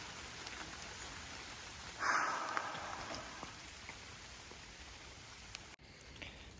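Light rain on the Appalachian Trail, a soft steady patter of drops on surfaces, quiet and continuous, with a brief rustle partway through.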